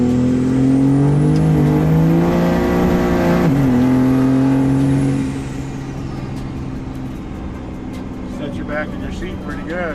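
A 1000-horsepower third-generation Cummins 5.9 diesel pickup accelerates hard, a loud rising engine roar with turbo whistle that peaks, then drops off to a steadier cruising drone, with people talking briefly near the end.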